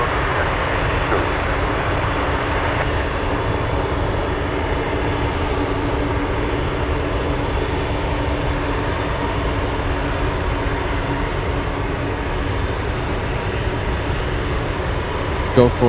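An Atlas Boeing 747-400 charter jet at Anchorage airport gives off a loud, steady engine roar that fills the whole stretch without letting up, close by, with no voices over it.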